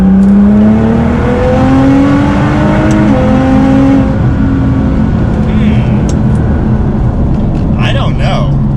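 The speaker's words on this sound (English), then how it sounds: "I feel like this Supra feels faster" Toyota Supra engine accelerating on a dirt road, a loud revving drone with rising pitch and a gear change, tire and road noise underneath, with a person speaking over it.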